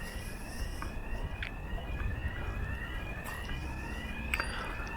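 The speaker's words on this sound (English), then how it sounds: "Actually, I can hear an alarm going off." A fire alarm sounds steadily in the distance from inside an empty building, with repeated high pitched beeps over a low background rumble, faint and muffled as if behind walls.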